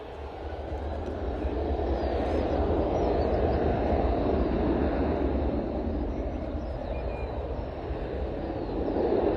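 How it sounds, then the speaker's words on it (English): A 13-year-old Boeing 737-800's engines roar steadily during its takeoff run at Bristol Airport, a broad continuous rumble that holds loud and even throughout, with no voices. "This 737-800, 13 years old. It's on the roll now."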